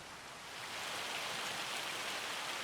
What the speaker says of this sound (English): Not happy with the rain. We have now got hail.